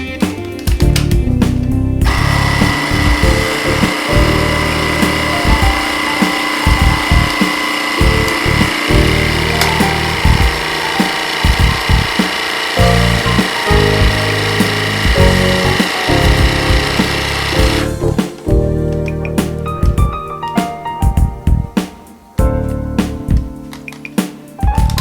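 A vacuum sealer pump draws air from a bag holding a trimmed meat fillet in a kitchen, a loud, steady motor drone lasting about sixteen seconds before cutting off, followed by scattered clicks and handling noises.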